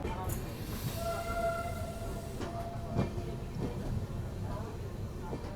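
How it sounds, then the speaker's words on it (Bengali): A moving train departing Santragachi Junction, heard inside the carriage of an Amrit Bharat Express bound for Puri, rumbles steadily, with occasional clanks and knocks and a brief faint tone, moderately quiet throughout. "এই মুহূর্তে আমাদের ট্রেন ছেড়ে দিল সাঁতরাগাছি জংশন রেলওয়ে স্টেশন থেকে"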